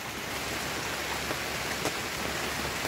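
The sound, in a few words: heavy rain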